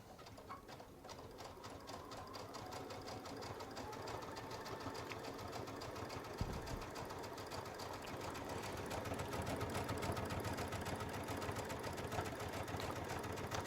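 A Baby Lock sewing machine fitted with the BLSO-LRF leather roller foot stitches quilting at a set stitch length, a fast steady rhythmic whirring chatter close by, running without pause and picking up slightly toward the end.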